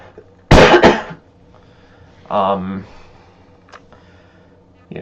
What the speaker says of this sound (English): I'm gonna cough into my cape.